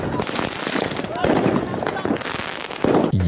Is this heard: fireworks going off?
yes